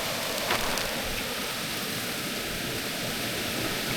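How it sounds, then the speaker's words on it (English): A mountain creek running over pink rock gives a steady, close hiss of flowing water with no breaks or other sounds. "So I'll show you this creek."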